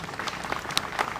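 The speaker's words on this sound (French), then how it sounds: "je voudrais qu'on les applaudisse bien fort" Brief scattered clapping from a small crowd at a commemoration of the 8 May 1945 victory at a war memorial, a loose patter of individual claps at moderate volume.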